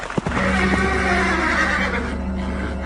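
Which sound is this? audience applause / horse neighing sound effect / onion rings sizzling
horse neighing sound effect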